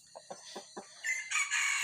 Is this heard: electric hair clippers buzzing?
no